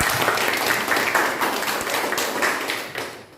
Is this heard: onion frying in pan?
no